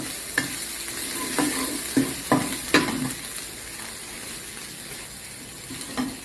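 Fatty pork stir-fried in a hot pan, with a continuous close sizzle and several sharp scrapes and clatters of a spatula against the pan; no talking.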